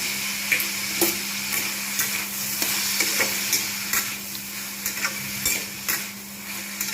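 Potatoes and yardlong beans fry with a steady sizzle in a pan while a spoon stirs and scrapes in irregular taps, close and loud, with no voices.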